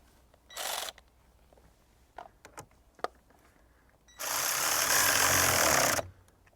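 A 10mm bolt on a battery terminal being done up in a Toyota LandCruiser 300 Series dual battery tray: brief clicks and taps, a short whirr, then a loud sustained rasp of a powered driver for about two seconds, close and without talk.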